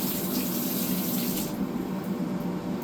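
Water runs steadily from a kitchen tap while something is washed in the sink, a loud continuous splashing rush with no voices over it.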